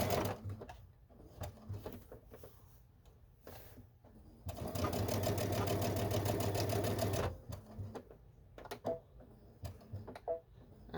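A sewing machine stitching fabric runs in a sustained whirring burst of about three seconds, framed by short stop-start stitches and handling clicks, close and fairly quiet.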